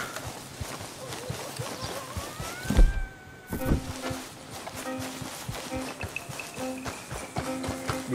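Hoofbeats of wild horses in Red Dead Redemption 2 clop in a quick rhythm beneath game ambience and faint insect-like buzzing, fairly quiet, with a brief louder thud partway through.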